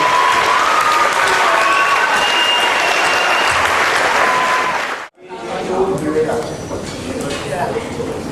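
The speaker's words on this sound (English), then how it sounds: "a big round of applause for everybody involved" A school band concert audience breaks into loud, dense applause with some cheering, sustained for about five seconds before a brief cut, then continuing more softly with voices talking through it.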